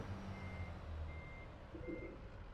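A truck reverses in Euro Truck Simulator 2, its back-up alarm giving three evenly spaced beeps over a steady low engine rumble, fairly faint, with no talk.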